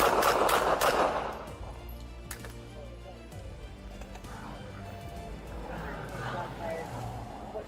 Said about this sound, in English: a Clark County Sheriff's Office deputy opened fire, striking the suspect